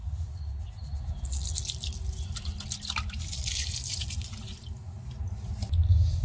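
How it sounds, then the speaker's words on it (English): Water is poured onto compost in a homemade bin to moisten it, a close, continuous splashing trickle that runs for several seconds, with no talk. "Add a little water just to moisten."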